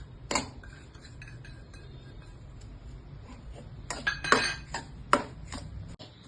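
Rava being stirred with ghee in a metal pan for rava laddu, scattered scraping clinks and taps of a spoon against the pan, sparse at first and then clustering into a few sharper knocks.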